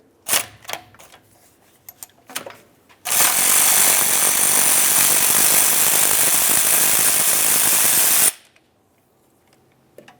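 Pneumatic impact tool removing a 13mm nut from the oil pan of a 2005–2010 Dodge Dakota 4.7L V8: a few short ratcheting bursts, then one loud continuous rattling hammer lasting about five seconds before stopping abruptly.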